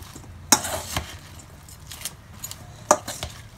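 Greek-style salad of Chinese cabbage being tossed with vinegar in a bowl, giving two sharp clacks of utensil against the dish among softer wet rustling and light scraping, close and moderately loud with no talking.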